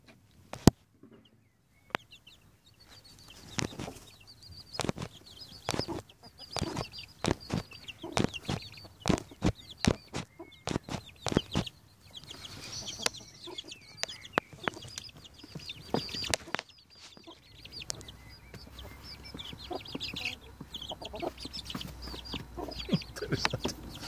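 A bantam hen and her chicks cluck and jostle for space under her wing, giving a busy, irregular patter of soft clucks and peeps with scuffling, fairly quiet and close, with no talking.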